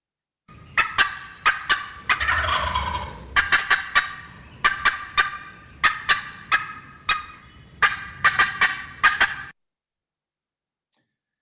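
A turkey's cutting call: loud, fast, irregular single staccato clucks in uneven bursts, close and clear, then silence.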